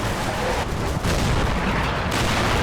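A Churchill tank's main gun fires on a house in a WWII Normandy strategy game, heavy booming blasts with rumbling, crackling aftermath that fill the whole moment at close range, one sharp fresh report landing near the end.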